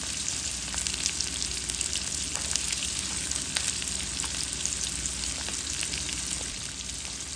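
Panch phoron spices and garlic frying in hot oil for a papaya dish, giving a steady, close, dense sizzle with faint crackles throughout and no talking.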